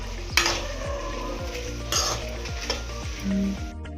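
Okra gojju cooking in a pan on low flame, a soft steady sizzle under a regular series of low spoon knocks against the pan, roughly two each second, with a few brighter scrapes.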